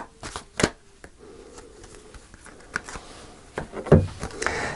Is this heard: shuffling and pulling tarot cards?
yes